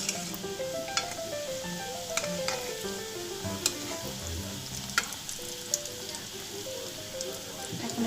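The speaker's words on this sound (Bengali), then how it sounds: "এখন এটাকে মিডিয়াম আঁচে আস্তে আস্তে করে ভেজে নিব, নাহলে মুচমুচে হবে না।" Chocolate samosas fry slowly in oil over medium heat, giving a steady, soft sizzle that runs beneath prominent background music for the whole stretch.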